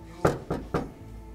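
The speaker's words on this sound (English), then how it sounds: "All that knocking." Three distinct knocks on a house door, evenly spaced about a quarter second apart, close and fairly loud against a quiet indoor background.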